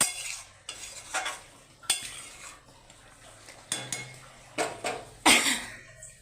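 Mutton curry is stirred in a pot with a metal spoon, giving a series of scraping clinks and knocks spaced irregularly over a faint low bubbling, close and fairly quiet.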